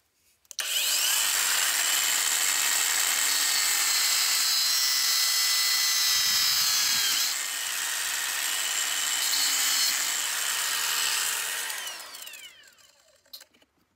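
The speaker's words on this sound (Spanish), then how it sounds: "Lo normal sería hacerlo con una tijera de fontanero, pero como no es mi caso y yo no tengo, lo voy a hacer con una radial." An angle grinder cuts through polyethylene pipe in one steady, loud, high-pitched whine that holds for about ten seconds, dips briefly midway, then spins down to silence.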